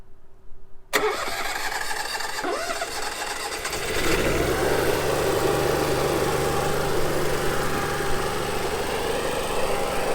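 A generator engine cranks over after about a second and catches, then settles into a steady, loud, even running drone for warm-up, with no voices.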